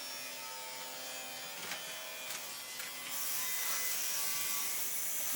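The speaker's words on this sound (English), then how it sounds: "use this to drill a smaller hole" A small motorized Lego EV3 tool whirs steadily as it drills a small hole, with a few brief scraping bursts and the pitch rising into a higher, louder buzz near the end.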